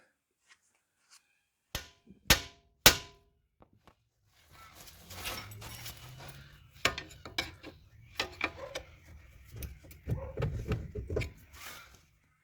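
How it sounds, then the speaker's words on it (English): Three loud, sharp hammer strikes on a Toyota Camry's front lower control arm ball joint ring out close together, followed by clattering and scraping of parts being handled. "smack this decently with the hammer, right there, it should shock it enough to pop that ball joint out"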